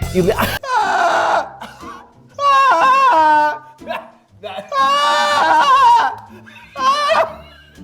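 A voice imitates a goat's bleat in several wavering, nasal cries with short gaps between them, loud and close.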